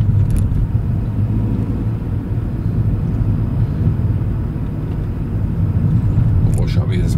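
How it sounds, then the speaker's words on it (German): A 2018 Ford Transit Courier engine runs with a loud, steady low rumble throughout, starting as the clutch pedal is pressed, while a person talks over it. "Aber der springt in dem Zeitraum an, wo du das Kupplungspedal durchtrittst."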